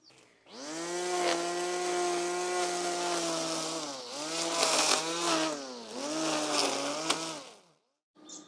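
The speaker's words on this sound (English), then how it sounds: "a garden power tool here," An electric line trimmer runs off an EcoFlow Delta Pro portable power station, a loud steady motor whine with strong harmonics that dips and surges several times as it works, then cuts off abruptly near the end.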